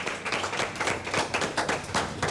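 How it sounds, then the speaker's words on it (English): Audience giving a round of applause at a morning event, a few seconds of brisk, fairly close clapping with distinct individual claps and no talk over it. "Give Shami Farrington a round of applause."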